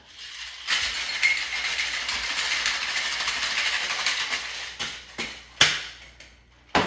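Steady rattling clatter of ice in a cocktail shaker holding Hennessy, peach schnapps and sweet and sour, shaken vigorously and continuously for several seconds, then a few sharper knocks as it stops.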